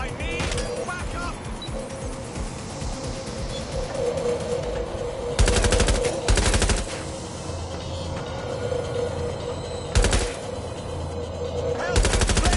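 Gunfire in the game Watch Dogs Legion, a dense ongoing firefight with loud bursts and sharp shots over a constant noisy background, some voices shouting amid the shooting.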